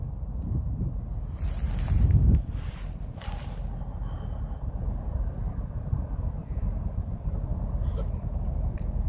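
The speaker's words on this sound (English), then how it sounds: "I'm flying into the wind, so the wind is blowing directly in my face" Wind buffeting an outdoor microphone in cold weather during a camera drone test flight, a steady low rumble with a stronger gust early on and a faint hum behind it.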